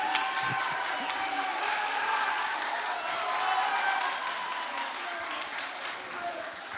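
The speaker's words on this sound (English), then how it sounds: "I don't necessarily need to ask for a round of applause for Dervla" Sustained audience applause at a youth awards ceremony, a hall full of steady clapping with some cheering and crowd murmur that swells and then slowly fades.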